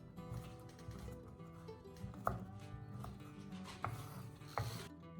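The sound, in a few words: chopping walnuts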